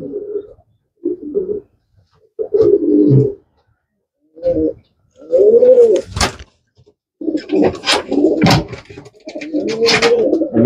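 A Red Barcelona racing pigeon coos up close in a series of loud, throaty rolling bouts separated by short silences, with no talking.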